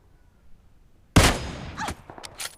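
Gunfire in a battle royale video game: one loud shot bursts out after near silence, followed by a few fainter follow-up shots and in-game rattles.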